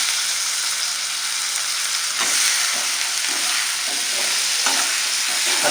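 Onions and brinjal fry in hot oil with a loud, continuous sizzle and crackle, occasional stirring bursts breaking the even hiss, and no voices.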